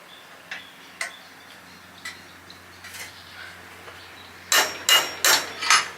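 A handmade Thai-style hammer taps on a wooden Thai cart under repair, starting with light spaced knocks and ending in four louder, close strikes in quick succession.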